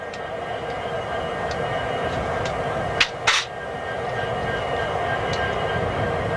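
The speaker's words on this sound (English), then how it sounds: "Traffic jam of coal trains down the Orin line south to Douglas." A coal train hauled by a leased GE C30-7 locomotive in merger paint rumbles past on the Orin line in Wyoming, a steady low drone with a couple of sharp squeals or clanks midway.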